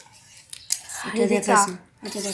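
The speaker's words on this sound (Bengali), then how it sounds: "বাবা লঙ্কা কাটছে" Green chili being cut, with a few sharp snips standing out under conversational voices close by.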